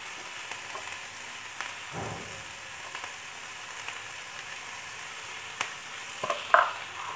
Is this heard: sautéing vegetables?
yes